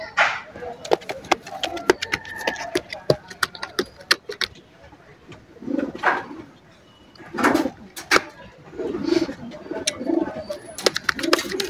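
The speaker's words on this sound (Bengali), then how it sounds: "খুব হাই কোয়ালিটি কবুতর।" A male cobra pigeon coos in repeated low, throaty bursts close by, with sharp clicking and rattling between them and someone talking intermittently over it.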